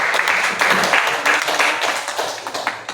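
A group claps for a student named Adit during a visual-art teacher-training classroom session, a dense, steady patter of hands that fades slightly toward the end.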